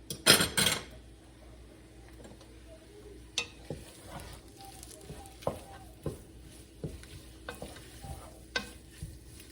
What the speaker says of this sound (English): So my steak is warming up.